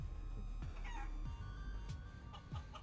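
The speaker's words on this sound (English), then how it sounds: "Hey, the chicken." Chicken in Guacamelee! 2 clucking in a series of short, choppy bursts over background game music, fairly quiet and close, with no speech.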